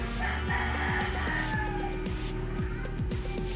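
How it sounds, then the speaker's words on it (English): A rooster crows over a busy outdoor background with passing vehicle rumble, the call moderately distant and partly masked. "you hear the cocks make the sound"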